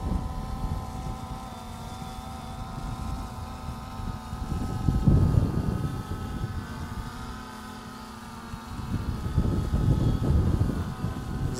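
A DJI Phantom 2 Vision+ drone with replacement motors hovers in moderate wind, making a steady, fairly faint buzzing whir that swells and eases slightly as it holds position. No one speaks.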